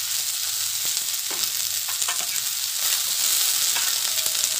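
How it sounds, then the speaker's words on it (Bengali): Boiled potatoes and chickpeas fry with turmeric in a pan, giving a steady close sizzle with occasional spatula clicks and scrapes as the mixture is stirred, under faint background music. "এটা নাড়তে থাকবে।"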